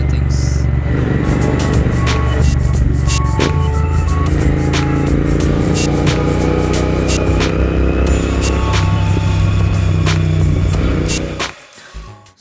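A Royal Enfield Interceptor 650 motorcycle rides through evening traffic, its engine humming steadily and close with horn beeps and street noise around, before the sound drops away at the end.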